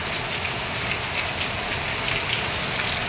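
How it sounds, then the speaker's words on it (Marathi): Rainwater drips and streams off the roof eaves during a monsoon downpour in Mumbai, a loud, steady hiss of falling water spread evenly throughout with no voices. "बघा, अशा पावळ्या गळतात."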